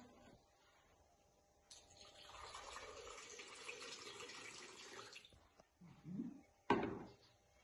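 Water poured into a container in a school classroom, a steady mid-level splashing stream lasting a few seconds, followed by a couple of brief clunks and trickles, with no one talking.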